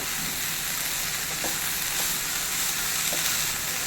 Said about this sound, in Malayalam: നല്ലപോലെ ഒന്ന് നമുക്കൊന്ന് മിക്സ് ചെയ്ത് കൊടുക്കാം